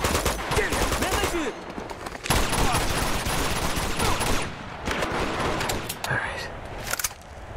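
Sustained bursts of automatic gunfire from wild shooting in Uncharted 2, loud and dense, broken by brief pauses, with a voice talking over parts of the barrage.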